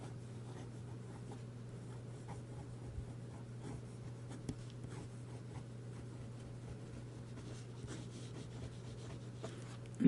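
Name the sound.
Lamy fountain pen writing on paper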